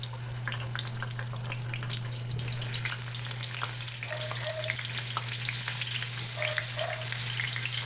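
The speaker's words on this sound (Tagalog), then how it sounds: "Lagay na natin yung ating tokwa." Stuffed tofu (tokwa) fries in hot oil, a quiet, even sizzle with light crackles over a low steady hum.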